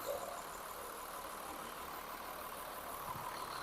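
A Mercedes-Benz bus engine idling as it arrives, a steady continuous rumble with broad noise throughout at moderate level, no voices.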